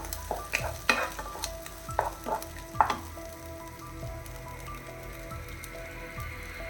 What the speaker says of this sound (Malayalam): മീഡിയം ഫ്ലെയിമിൽ വെച്ചിട്ട് അതിൻ്റെ ഓയിലൊക്കെ തെളിഞ്ഞ് വരുന്നവരെ നമുക്കൊന്ന് വഴറ്റി കൊടുക്കാം